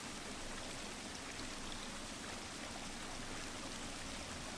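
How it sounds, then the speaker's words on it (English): Steady, soft patter of rain falling in the Hollow Knight: Silksong game, a continuous faint wash of drops with no breaks or voices. "Raindrops falling on Chakra's head"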